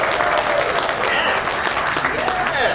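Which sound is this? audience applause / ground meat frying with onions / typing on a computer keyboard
audience applause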